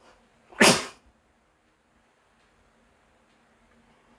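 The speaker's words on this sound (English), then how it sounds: "I guess I just had one sneeze" A single sharp sneeze, close and loud, followed by near silence.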